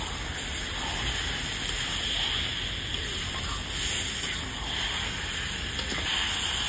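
1.5 kg of chicken poured into a sizzling spice paste for chicken kosha, a steady crackling fry with soft stirring noises throughout, no voices.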